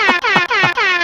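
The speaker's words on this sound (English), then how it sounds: "Let me hit an air horn for that." A loud air horn sound effect blares in three quick repeated blasts with short gaps between them, close and alone.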